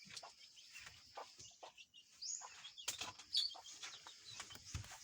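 Chickens dust-bathing on a farm in the afternoon heat, with repeated soft wing flaps and rustling bursts, scattered clucks and chirps, close but faint, with no talk.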